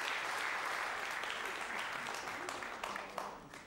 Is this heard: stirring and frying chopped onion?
no